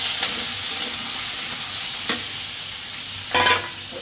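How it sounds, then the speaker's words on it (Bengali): Potato, onion and green chilli sizzle in oil in a pan alongside fried red snapper, a steady close hiss broken by a few brief scrapes of a stirring utensil. "এই যে মাছ ভাজা দিলে আমি এখন এই যে আলু, পেঁয়াজ, কাঁচামরিচ সব দিয়ে দেবো।"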